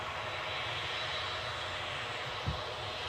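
Spitfire piston aircraft engine droning steadily overhead at Glasgow airport on an air show day, a continuous broad roar holding level throughout with a brief low thump near the end.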